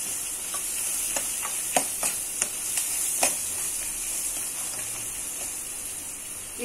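Peanuts and onions fry in hot oil, a steady close sizzle broken by a few light scraping knocks of a spoon stirring the pan.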